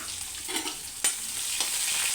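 Mustard seeds, cumin, curry leaves, garlic paste and onion fry in hot oil for a dry potato bhaji, giving a close steady sizzle with a couple of brief stirring clicks.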